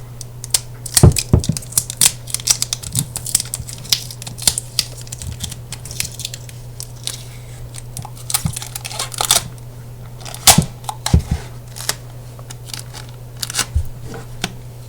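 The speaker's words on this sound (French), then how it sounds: "Vous allez prendre le scotch et bien enrouler ça derrière" Quick crackling and ripping bursts of tape being pulled and wound, scattered irregularly over a steady low hum, close and fairly loud.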